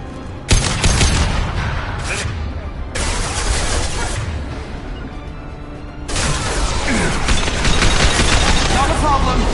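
Sustained bursts of automatic gunfire in Mass Effect Legendary Edition combat, loud and dense, with brief lulls between volleys.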